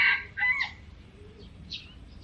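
A rooster crows loudly at the start, with chickens clucking and calling faintly afterward against a quiet outdoor morning background, no voices present.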